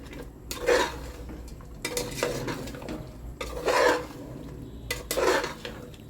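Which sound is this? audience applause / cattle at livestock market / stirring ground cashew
stirring ground cashew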